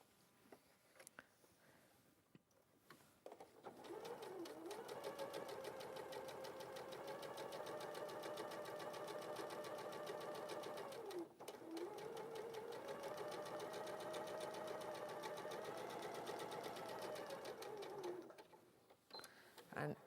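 Sewing machine running two long rows of gathering stitches, a steady rapid mechanical chatter near and clear, broken by one short pause and stopping near the end.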